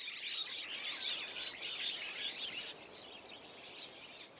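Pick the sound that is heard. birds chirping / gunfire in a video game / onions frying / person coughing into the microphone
birds chirping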